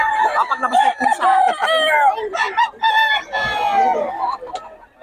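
Roosters and chickens at a market stall in Bocaue, Philippines, crowing and clucking overlapping loudly and continuously at close range, with several birds calling at once.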